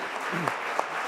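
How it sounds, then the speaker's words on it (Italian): An indoor audience at a talk claps in a dense, steady patter of applause for its whole length, heard from within the crowd. "facciamo noi un applauso"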